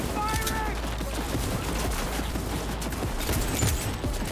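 Dense, continuous gunfire in the video game Cyberpunk 2077: rapid overlapping shots in sustained bursts at steady loudness for several seconds, with voices faintly in the mix.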